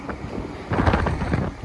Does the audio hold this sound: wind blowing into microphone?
yes